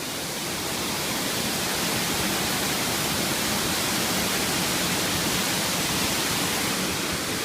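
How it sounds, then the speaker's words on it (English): Mocoa waterfall in Colombia pours beneath a natural rock bridge, a loud close broadband roar of falling water that stays constant throughout. "I'm actually standing on a natural bridge that this waterfall goes under"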